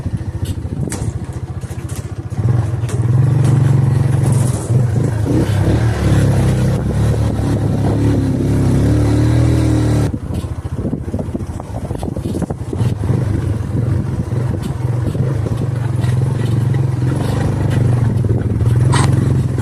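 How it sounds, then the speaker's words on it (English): A motorbike crossing a big, rickety bridge in rural Sumatra, its engine droning steadily up close with rattling and clattering from the bridge underneath, heard on its own without talk. "I did not think I would ever be on a bike on a bridge in rural"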